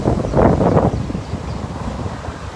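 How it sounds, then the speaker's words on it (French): Strong wind blowing on the coast during the cyclonic swell of Tropical Storm Tammy: a loud buffeting gust rushes over the microphone for about a second, then eases into a lower, continuous blustery rumble. "Il y a du vent, je bouge avec ce vent"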